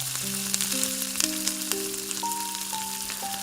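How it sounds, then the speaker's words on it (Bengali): Hilsa fish heads fry in a pan with a steady, close sizzle and hiss that continues throughout, while sustained tones step upward underneath. "এই ইলিশের মাথাগুলো কিন্তু বেশি করা ভাজবেন না একটু অল্প ভাজবেন"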